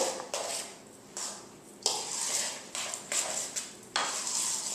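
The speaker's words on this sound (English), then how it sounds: "And I'm just going to stir that all up really good." A spoon stirs sour cream into a hash brown casserole mixture, making repeated bursts of scraping and clinking against the bowl in an irregular rhythm, close and fairly quiet.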